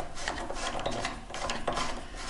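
Rasping, scraping metal-on-metal work while unscrewing a part on a Honda C70 motorcycle in a garage, a steady close gritty rubbing sound with small repeated strokes throughout.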